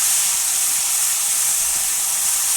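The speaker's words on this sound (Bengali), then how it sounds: "দেখো বন্ধুরা আমার তেলটা গরম হয়ে গেছে এখন আমি মিক্সচারে করে রাখা মশলাগুলো সবগুলো ঢেলে দিচ্ছি" A ground spice mixture poured into hot oil for pumpkin-leaf dried-fish fritters produces a loud, continuous bright hiss and sizzle that holds steady with no pauses.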